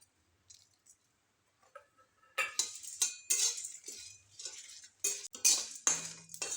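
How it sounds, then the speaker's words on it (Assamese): Dry spices, including dried red chillies, are roasted in a hot kadai for a duck curry paste. A spatula gives intermittent scrapes and metallic clinks, sparse at first, then busier and louder. "কেৰাহীটো গৰম হৈ গৈছে। শুকান মছলাখিনি দি দিছোঁ। এইখিনি ৰোষ্ট কৰি ল'ম।"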